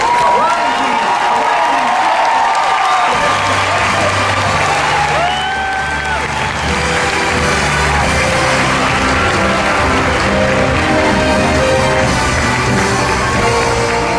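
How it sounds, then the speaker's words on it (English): Large audience at the Disney Legends ceremony at D23 Expo 2022 applauding and cheering loudly for the Disney on Broadway cast, a dense continuous roar of clapping with whoops, with music playing underneath. "let's give another big round of applause to the Disney on Broadway cast"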